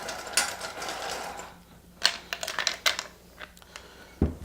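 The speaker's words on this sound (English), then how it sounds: "right now we're going to add our ice to our Perlini shaker" Ice is added to a Perlini cocktail shaker, with sharp, scattered clinks and rattles at close range that are fairly faint and irregular, ending in a single firmer knock.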